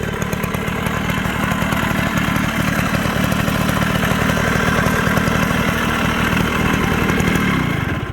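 A 1972 Suzuki Trail Hopper 50 motorcycle engine with original stock exhaust runs steadily up close with a buzzy, throbbing note, idling evenly before dropping off at the very end.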